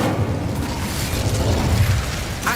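A fire spell cast in Hogwarts Legacy, a sustained roaring, crackling burst of flame that holds steady throughout at close range, with a brief higher whoosh near the end.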